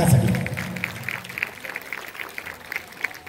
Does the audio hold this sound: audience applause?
yes